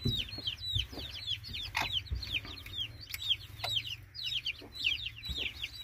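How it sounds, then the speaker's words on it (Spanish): A hen clucks softly and repeatedly to lead her chicks to food, the short calls coming in an uneven, steady rhythm close by, with no voices over them. "la gallina ya anda enseñando a los pollitos a buscar comida"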